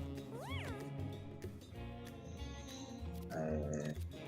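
A red cat in the Mewgenics video game meows once with a clear rising-falling cry, followed by busy game sound effects and background music.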